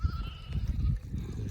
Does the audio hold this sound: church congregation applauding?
no